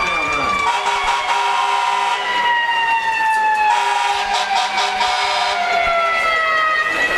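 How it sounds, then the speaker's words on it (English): A Corbin fire truck siren sounds off after a touchdown at a high school football game, a loud wailing tone rising and falling continuously throughout, with crowd noise underneath. "And the Corbin fire truck sounds off."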